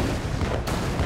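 A bomb blast in the video game Alice: Madness Returns, one dense, loud, close explosion filling the whole moment with a heavy rumbling burst.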